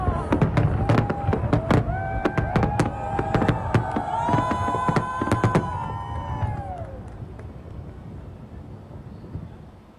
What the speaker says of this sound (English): fireworks lit up the sky over the Hudson River on Wednesday night